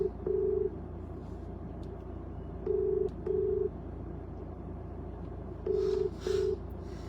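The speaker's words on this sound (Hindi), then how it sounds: "फोन लगा रहे हैं" Short electronic keypad tones sound in pairs across the clip, three separate bursts of two beeps, steady and clear over a faint background hum.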